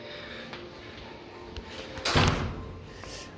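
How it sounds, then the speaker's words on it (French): A hotel suite door is opened with a few light clicks of the handle, followed by a louder thud and a rush of sound as it swings open, heard up close in a quiet room. "vous pouvez ouvrir la porte."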